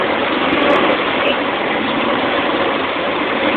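A truck engine rolls slowly in bottom gear, a loud, steady, dense rumble with unbroken mechanical noise and no pauses or talk.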